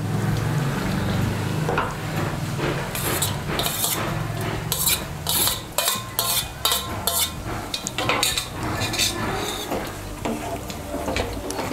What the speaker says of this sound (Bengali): চিংড়ি মাছটা মিশিয়ে নিয়ে আমি 1-2 মিনিট রান্না করে নেব।